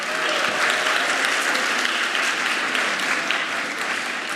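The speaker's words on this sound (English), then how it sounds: "Can we get another round of applause for them?" Audience at a speech contest evening applauds the speakers, a dense, steady burst of clapping that carries on throughout without voices.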